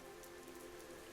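Rain falls at night in a soft, even hiss, steady and fairly faint throughout with no other sounds.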